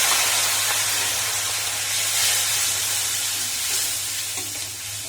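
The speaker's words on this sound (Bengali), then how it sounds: "সামান্য একটু জল দিয়ে মশলা কষিয়ে নেব" Ground spices with ginger paste, turmeric and cumin fry with a splash of water in a pan, giving a loud, dense sizzle and steamy hiss that eases slightly toward the end, up close and uninterrupted by voices.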